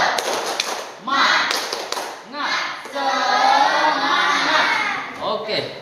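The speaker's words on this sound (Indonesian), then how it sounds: "Tepuk semangat" A classroom of children led by a teacher performs a rhythmic 'tepuk semangat' spirit clap, with chanted voices and tapping, clapping hands in bursts, loud and close, blended with group shouting.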